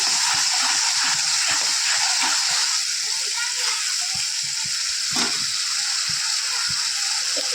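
Spice paste frying in oil for a mushroom dish, a dense crackling sizzle with occasional stirring scrapes, loud and close, with a voice talking underneath.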